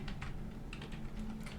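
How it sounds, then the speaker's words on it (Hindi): Company name being typed on a computer keyboard, a quick run of soft close key clicks in an uneven rhythm over a low steady background hum. "यहाँ पे मैं कंपनी का नाम टाइप कर देता हूँ"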